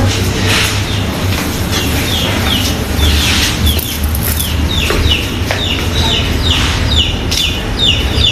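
A flock of chickens clucks continuously and loudly close by at night as they are shut in, overlapping calls filling the whole stretch with no talking.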